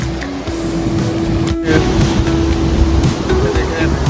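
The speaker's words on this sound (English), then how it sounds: "I love that sound of the ocean, right?" Loud, continuous roar of ocean surf along the beach on the Washington–Oregon coast, a dense broadband wash with steady swell and no distinct voices.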